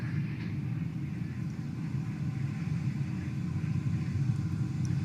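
A SpaceX Falcon 9 first stage's rocket engines throttle down during ascent to the ISS, heard as a steady, low, distant rumble at modest volume, continuous with no talk.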